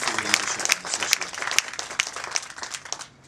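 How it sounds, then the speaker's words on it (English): An audience at a mayor's press conference claps steadily in a dense, close round of applause that tapers off at the end. "let's give another round of applause to our speaker who has brought us together"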